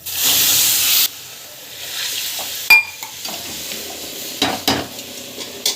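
Water poured into a roasted mixture in a hot pan makes a loud, bright hissing burst that cuts off after about a second, followed by softer sizzling and scattered clinks of a utensil against the pan.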